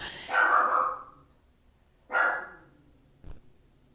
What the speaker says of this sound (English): He heard a car go by and he doesn't like the cars, so he's barking again.